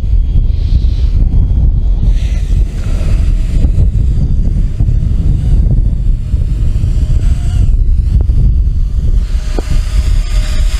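Strong outdoor wind buffets the microphone continuously during a small Heliway 913 drone flight, a dense low rumble with gusty fluctuations and no voices.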